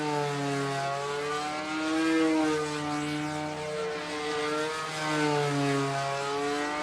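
A model airplane engine runs steadily and loudly, its buzzing drone wavering slightly in pitch throughout with no pauses.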